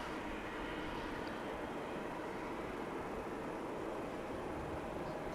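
An American Airlines jet departs Dallas/Fort Worth Airport, its engines producing a steady, fairly distant broadband roar that stays level throughout with no voices.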